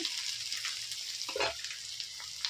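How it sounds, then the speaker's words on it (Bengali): Chopped ginger stir-fried in a pan for a potato mash dish, giving a steady close sizzle and hiss with occasional scraping stirs of a utensil, no voices. "ভাজা ভাজা হওয়া পর্যন্ত আমাকে নাড়িয়ে যেতে হবে"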